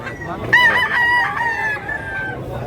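A young rooster offered for sale at a market in Tabunok, Talisay, Cebu crows once, loud and close, a drawn-out strained call lasting about two seconds over faint background noise.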